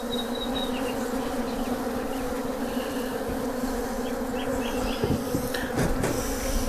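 Honeybees buzz around a hive without brood during an inspection, a dense, steady, close swarm hum throughout with a few louder individual bees passing near.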